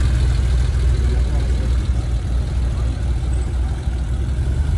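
A Porsche sits idling outdoors at a classic car gathering on Place Vauban, its engine giving a steady low rumble that holds evenly throughout with no revving.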